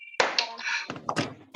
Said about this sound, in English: when I say 5 you all have to clap your hands together